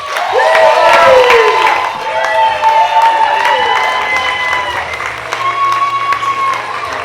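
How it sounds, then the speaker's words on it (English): An audience at an early learning awards gala breaks into loud, sustained applause mixed with cheers and whoops, a dense crowd roar that stays steady throughout with voices calling out over the clapping. "Applause, audience."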